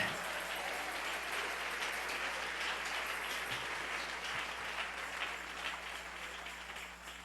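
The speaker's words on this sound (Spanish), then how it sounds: "Dale ese aplauso al Rey en esta mañana." A church congregation gives applause during a Spanish-language worship service, a broad, continuous wash of clapping heard from some distance in a reverberant hall, steady and fairly soft.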